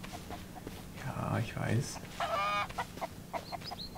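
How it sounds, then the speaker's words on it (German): Chicken clucking in the survival game Mist Survival, a few short bursts mixed in with a man's brief speech, fairly faint overall. "Komm her, du Hühnchen."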